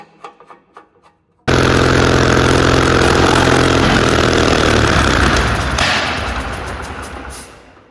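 Turbocharged 1941 Caterpillar D4 engine, with an oil leak, barks into life after a few knocks and runs loud and rough nearby for several seconds before being shut off and winding down.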